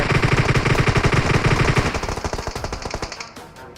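Rapid automatic gunfire in the battle-royale game PUBG, loud, close bursts of rhythmic shots that thin into scattered single cracks near the end.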